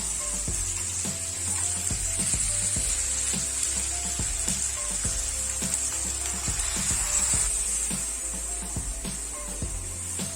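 Curry leaves added to paneer and vegetables in a hot pan, a constant hissing sizzle with a rapid, regular ticking or rattling pulse underneath, close and steady with no talk.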